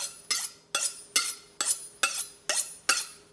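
A knife cuts through banana blossom in a camper kitchen: seven evenly spaced, crisp chopping strikes, each with a short ringing decay, close and clear with no voices.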